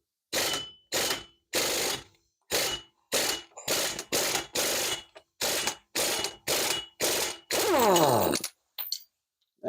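Impact wrench removing a large nut on a 2012 Chevrolet Impala LTZ, about a dozen loud, closely spaced hammering bursts in an even rhythm, ending in a longer run that rises in pitch before stopping.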